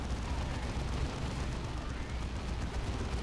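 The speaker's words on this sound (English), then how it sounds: "the amount of gunfire noise in this game is ridiculous." Dense, continuous gunfire and explosions rumble without pause in the video game Warhammer 40K: Dawn of War II, a loud battle sound effect filling the whole stretch.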